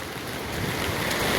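A swollen river in Panderi village, Konkan, spills floodwater into fields and across the road, a continuous close roar of rushing water with no voices.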